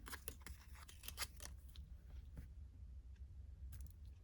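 Scissors trimming paper collage tiles with a quick series of crisp snips, faint and close over low background rumble, thinning out midway and picking up briefly again at the end.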